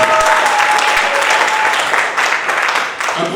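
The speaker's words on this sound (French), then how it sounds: "Applaudissez" Guests at a French-speaking civil wedding ceremony burst into loud, close applause, dense clapping from a crowded room that holds steady for a few seconds, with faint voices mixed in.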